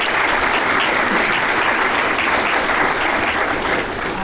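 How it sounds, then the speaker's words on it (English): Loud, dense applause from the audience at a development roundtable, honoring the panel, with many hands clapping steadily and evenly close by, no voices on top. "I would like us to all join me in a round of applause for our panel here."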